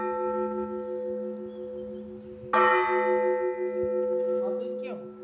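From the bell tower of the Church of St Nicholas the Wonderworker, close bells hum steadily until one loud new strike rings out midway. A brief voice is heard near the end.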